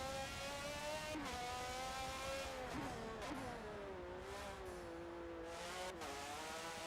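IndyCar race cars in a racing video game idle around a cool-down lap at the Daytona road course, a steady engine drone with gently wavering pitch and brief gear-change blips, no voices.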